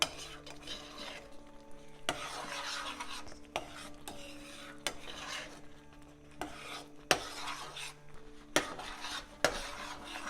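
Pineapple kesari mixture being stirred in a pan on the stove, a low continuous scraping rub with repeated crisp clicks of the spoon against the pan, soft and close, no talking.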